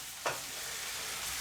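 Onions fry in a pan for a beef curry, a steady soft sizzle running throughout with one brief clatter near the start; no voices.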